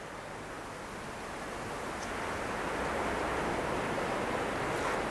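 Ocean waves washing in with the incoming tide, a soft, continuous broadband surf hiss that swells gradually louder, heard faintly with no voices.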